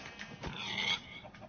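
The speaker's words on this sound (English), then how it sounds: "Hey, the pig is in the garden." A pig out in a garden grunts low and faint, a few soft snorting grunts over a steady background hiss.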